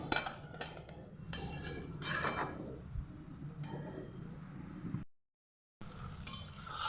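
Chicken curry being stirred and sautéed in a pan, with a utensil scraping and clinking against the metal in an irregular rhythm, close and moderately loud, briefly cutting out near the end.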